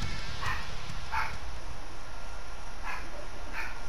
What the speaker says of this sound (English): I think that's my dog barking over there.